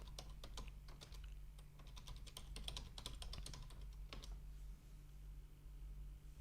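Fingers tapping out an email address on a computer keyboard, a quick run of light key clicks close by, then stopping, over a steady low electrical hum.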